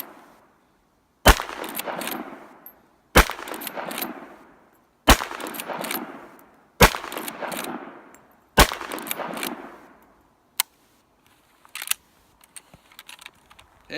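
A Winchester 94 30-30 rifle fires a series of five loud, sharp shots about two seconds apart outdoors. Each blast rings out into a long fading echo, and a few faint clicks and handling sounds follow afterward.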